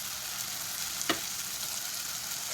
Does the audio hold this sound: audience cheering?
no